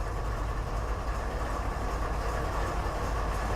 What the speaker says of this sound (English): wow, that is a loud engine.